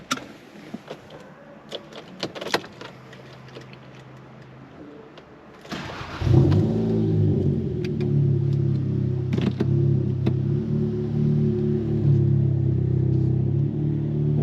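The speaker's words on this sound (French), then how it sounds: "on entend vraiment très bien le son du 4 cylindres" Starting around the middle, a Golf 7.5 GTI Performance four-cylinder engine fitted with a Ragazon exhaust rumbles into a steady, deep idle. Quieter clicks and rustles come first, with no talking.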